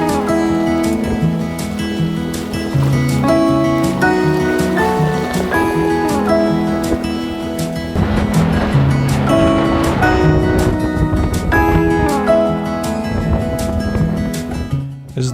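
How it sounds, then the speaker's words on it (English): Waves rush and splash against a moving sailboat, with bursts of spray over a steady droning tone. "As the waves got bigger, splash became more frequent"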